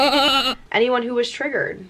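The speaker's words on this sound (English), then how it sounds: "That sound is also kind of triggering because it's the After Effects render fail sound." A sheep bleat with a wavering, harmonic tone opens the moment, loud and close, followed by a spoken voice.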